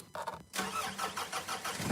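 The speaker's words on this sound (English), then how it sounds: "and you start your car." A car engine cranks briefly, catches and settles into a steady, fairly loud idle that carries through to the end with no voices.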